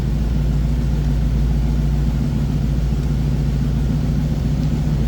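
A 1975 Mercedes-Benz 450SL convertible idling, heard from behind at the exhaust and still without its new muffler: a loud, steady, low rumble that holds even and unbroken throughout.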